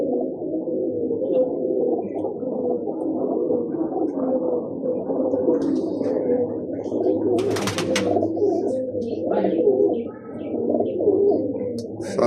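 Pigeons cooing on a rooftop loft, a dense continuous chorus of low throaty coos from many birds nearby, with a brief flutter of wings partway through.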